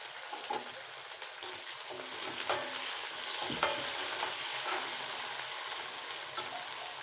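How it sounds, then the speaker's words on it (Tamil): Chopped onion and garlic fry in a pan for a drumstick curry, giving a steady close sizzle with occasional stirring scrapes and no voices. "இப்போ நம்ம கட் பண்ணி வச்சிருந்த வெங்காயம், பூண்டு இதெல்லாம் சேர்த்துக்கலாம்."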